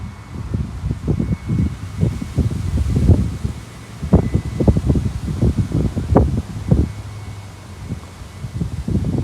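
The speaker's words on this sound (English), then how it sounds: "Well, it's quite breezy this morning." Breezy morning wind buffeting a microphone outdoors at a golf course during a women's semifinal match, irregular low rumbling gusts rising and falling throughout, loud and close with no talk.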